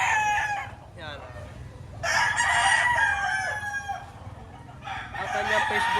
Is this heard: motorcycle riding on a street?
no